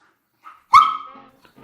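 A single sharp dog bark rings out close and loud, ending in a short tail, preceded by a faint little yip and followed by quiet.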